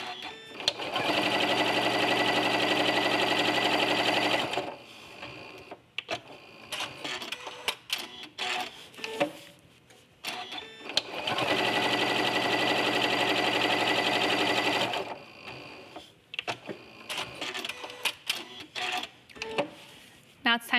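Sewing machine quilting fabric layers with a walking foot, two long steady runs of rapid stitching chatter with quieter handling noises between them.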